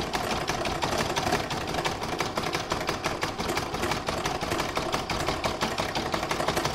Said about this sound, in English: that's going to do the satin stitch around this inner circle, and for that I've changed my thread to gold.